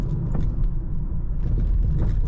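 A right-hand-drive car rolls over railway train tracks, a steady low rumble of engine and road noise with a few faint bumps as the wheels cross the rails, close and continuous throughout.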